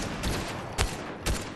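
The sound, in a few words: gunfire from a video game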